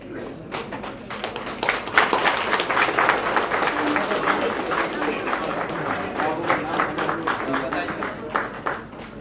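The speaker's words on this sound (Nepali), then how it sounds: "ल ताली बजाएर पास गर्नु" A crowd at a political party meeting claps steadily and densely for about nine seconds to pass a motion, with voices mixed in among the clapping.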